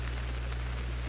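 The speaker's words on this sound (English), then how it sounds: "Especially while it's raining." Steady rain falls in the video game Pokémon Legends Arceus, a soft even patter over a constant low background hum, with no talk.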